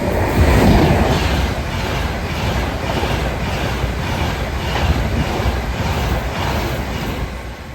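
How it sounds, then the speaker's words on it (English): Train 392121, running from Glasgow Central to London Euston, passes through Stechford station with a loud, close, sustained rumble and a repeating clatter of wheels over the rail joints that fades slightly at the end, with no talking. "the next train to make an appearance, surprisingly, is 392121 going from Glasgow Central to London Euston"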